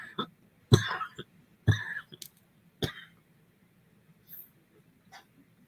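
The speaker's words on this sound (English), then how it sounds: "It's causing me to cough." A few dry coughs and throat-clearing bursts close by, spaced out over a quiet background with a low steady hum.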